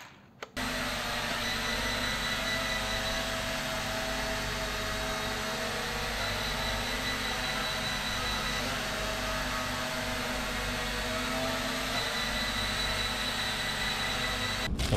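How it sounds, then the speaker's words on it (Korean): Steady, loud high-pitched whirr of a Z908 Pro toy mini drone's propellers spinning, starting abruptly after a brief moment and continuing unbroken at close range. "이 프로펠러 회전하고 있는 걸 멈추고 싶으면 6시로 내면 돼요."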